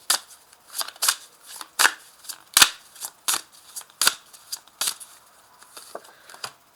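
Tarot cards are handled at close range, with a run of crisp riffling shuffles and sharp slaps as cards are laid down in an uneven rhythm, and no voices.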